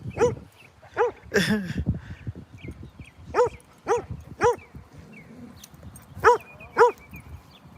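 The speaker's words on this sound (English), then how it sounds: "He sees me, he's barking." A dog barks repeatedly in short bursts, some doubled, fairly close, with a softer whine mixed in between the barks.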